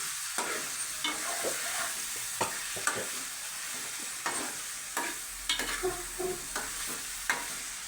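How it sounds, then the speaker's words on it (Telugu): A grandmother stirring chicken curry in a pot, with a spoon scraping and knocking at irregular intervals over a continuous sizzling hiss, close and clear with no talk. "చూడండి, అవ్వ కలుపుతూ ఉంది."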